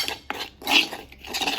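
A spoon stirs spinach pakoda batter with salt, ajwain and rice flour in a bowl, giving a few close, irregular clinks and scrapes against the sides.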